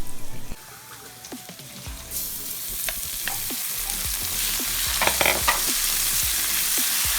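Onion and garlic hit a hot kawali, a loud sizzling hiss that builds and holds steady, broken by clicks and scrapes of stirring, close up and with no voices.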